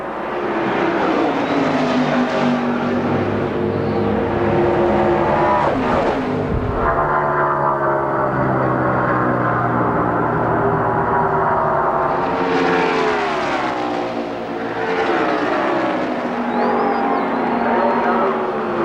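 NASCAR stock cars race at the 1996 Brickyard 400 at Indianapolis, with loud engine roars swelling and fading as cars pass, heard under continuous commentary.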